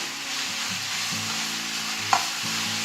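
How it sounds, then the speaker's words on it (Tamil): Steady sizzling of onions sautéing in a pan, with a brief clink of a utensil partway through. "போட்டு இது நல்லா வதக்கிக்கோங்க"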